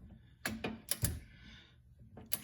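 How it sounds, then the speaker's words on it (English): Torque wrench tightening the rear shock bolts on a BMW E46 convertible, giving a few sharp metallic clicks and ratcheting taps spaced out over a quiet background. "I have a little more swing with the torque wrench here"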